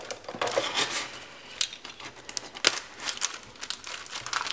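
Craft paper being cut, giving a run of crisp crinkling snips and rustles with uneven sharp bursts, close up and with no talking.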